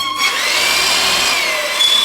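A power drill bores into wood during Japanese carpentry work on a dovetail joint for a post base, a loud, steady whirring grind lasting a couple of seconds, close up and alone.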